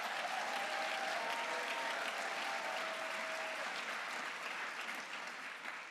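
Conference audience at a CUFI event breaks into sustained applause, a full, dense roar of clapping from a large hall that holds steady and slowly fades toward the end.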